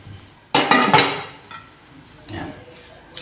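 A metal lid set onto a cooking pot of boiling herbal drink, a sharp clank followed by a rattling settle, then a softer knock and a small clink a moment later.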